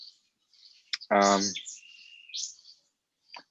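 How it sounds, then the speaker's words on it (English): High, quick bird chirps and tweets sound outdoors in short bursts, with a brief voice breaking in partway through. "It's nice to hear the birds. I can hear them tweeting in the background."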